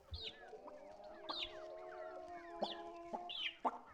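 Chickens in the video game Grunn cluck and cheep in a string of sharp, scratchy bursts over a low sustained drone, several calls rising and falling across a few seconds at close range with no talking.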